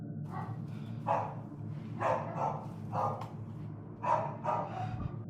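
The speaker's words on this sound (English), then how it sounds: "Even the dogs in the background seem disturbed by whatever is going on." Dogs barking in the background, a series of short, moderately distant barks in irregular bursts over a low steady hum.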